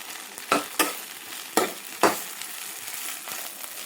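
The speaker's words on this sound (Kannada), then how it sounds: "ನಾವು ಫ್ರೈ ಯಾಕೆ ಮಾಡ್ತಿದ್ದೇವೆ ಅಂದರೆ" Leftover idli pieces frying in hot oil for crispy idli Manchurian give a soft sizzle, punctuated by four sharp scraping stir strokes in the first half.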